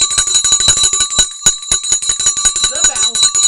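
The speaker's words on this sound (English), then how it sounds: "The bell." The stock market closing bell rings loudly in a rapid, continuous series of metallic strikes, each one close and bright, with a brief voice near the end.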